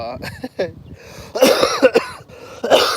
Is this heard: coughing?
yes